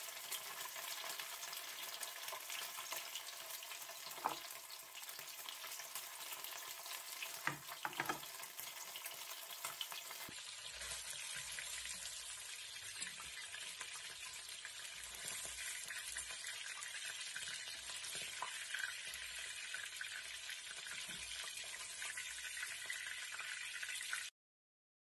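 Salmon frying in a pan, a steady soft sizzle and crackle running throughout at low volume, with occasional faint clinks and no talking.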